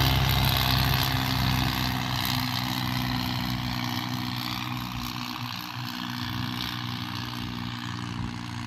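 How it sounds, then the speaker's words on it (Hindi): New Holland and Swaraj 855 tractors run side by side in a field demo, their diesel engines making a steady, loud, chugging drone that continues throughout without talk. "ट्रैक्टर चल रहे हैं और न्यू हॉलैंड आगे बढ़ रहा है।"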